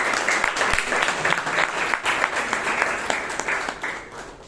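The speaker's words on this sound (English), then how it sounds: "Please give Ujyant a big round of applause." An audience at a Bangalore Toastmasters club meeting gives a round of applause, steady crowded clapping from many people in a room, sustained for several seconds before easing off.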